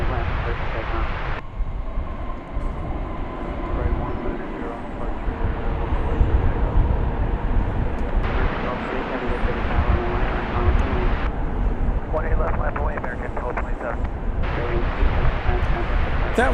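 A Boeing 787-8 airliner at DFW Airport, arriving after a long-haul flight from Tokyo, roars steadily and loudly throughout, its broad engine rumble unbroken and close, with a voice talking over parts of it.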